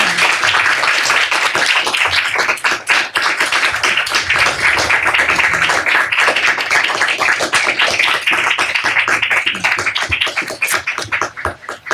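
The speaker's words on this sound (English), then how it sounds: "If you want to give them a round of applause" A conference audience gives panelists a sustained round of applause, a thick, loud stream of many hands clapping close by, fading slightly toward the end.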